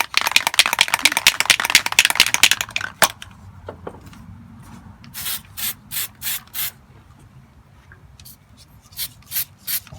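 Rattle can of high build primer surfacer being shaken vigorously, a dense rapid clatter, then a pause followed by several short bursts of spray hiss, close and loud.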